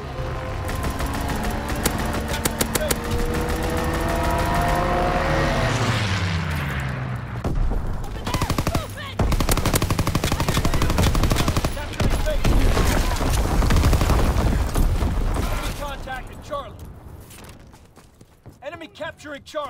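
Dense video game battle din of rapid strafing gunfire and booming blasts, loud and continuous, with voiced announcements and game voices over the top and the barrage thinning out toward the end.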